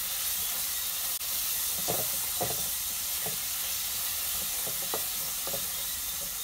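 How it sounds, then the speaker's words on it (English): Saltfish, onions and garlic sizzle in a pot, a steady close frying hiss with several scraping stir strokes of a spoon against the pot. "There's the saltfish, onions in the pot. With the garlic."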